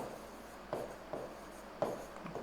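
Hand-written strokes during a lecture, faint scratchy marks in a few short bursts spaced apart in a quiet room, no voice over them.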